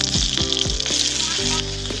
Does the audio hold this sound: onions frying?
yes